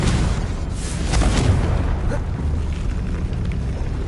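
A Confringo explosive spell going off in Hogwarts Legacy, a dense, loud, rumbling blast that swells briefly and then sustains as a heavy roaring burst, with no talking.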